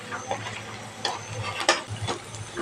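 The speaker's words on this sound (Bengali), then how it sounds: "উল্টে পাল্টে বড়াগুলো লাল লাল করে ভেজে নেব" Banana stem fritters fry in a pan of hot oil with a steady sizzle and crackle, broken by a few sharp clicks and taps of a spatula turning and pressing them.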